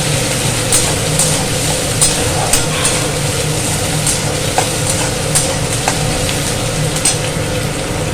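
Chopped onions fry in a pan until reddish-brown for a Bengali jackfruit curry: a loud, continuous close sizzle with scattered crackles and light stirring clicks throughout, no voices.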